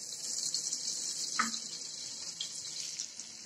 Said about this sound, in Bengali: এখন দিয়ে দিচ্ছি এখানে আরো 2-3 টেবিল চামচ পরিমাণ সাদা তেল